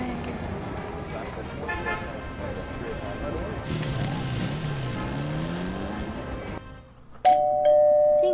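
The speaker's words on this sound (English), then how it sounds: "Ding dong." A video game doorbell chimes near the end, a clear bright tone that follows a stretch of busy game noise and a short quiet moment.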